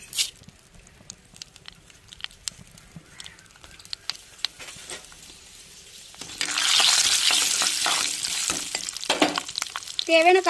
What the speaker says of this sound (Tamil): இறக்கி வச்சு தாளிச்சுக்கலாம் என்ன சூடாக வெந்தயம் போட்டுக்கிறோம்